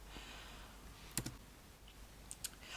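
A few faint, sparse keystrokes on a computer keyboard click in a quiet room, coming as isolated taps rather than a steady run of typing.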